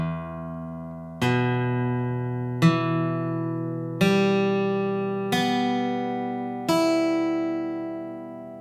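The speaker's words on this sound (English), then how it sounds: "So let's try picking this chord one note at a time. So we're going to pick each string slowly." A guitar chord is picked slowly one string at a time, six clear plucked notes spaced about a second apart, each ringing and fading into the next, close and alone with no voices.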